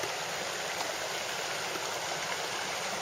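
A creek rushes over a small waterfall, a loud, dense, unbroken roar of flowing water close by with no talking.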